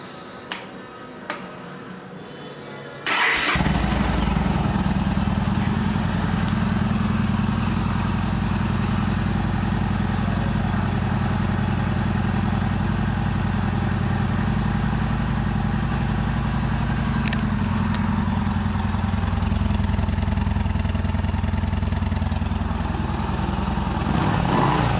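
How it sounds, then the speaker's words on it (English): A 2014 Yamaha Bolt 950 motorcycle starts after a couple of faint clicks and settles into a steady, close, loud idle, its V-twin rumble running evenly for over twenty seconds. "This 2014 Yamaha Bolt 950"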